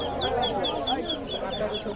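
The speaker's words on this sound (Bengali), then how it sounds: "এটা আপনার চীনা হাঁসের বাচ্চা, এটা 25 দিন বয়স, 450 টাকা জোড়া।" Chinese breed ducklings, about 25 days old, quack in rapid repeated calls at a village market, close by amid background voices.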